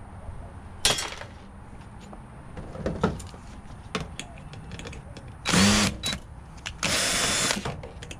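Power drill backing screws out of a piece of lab equipment during scrapping, with a few short whirring bursts and clicks, then two louder, longer drill runs close by, with no talk.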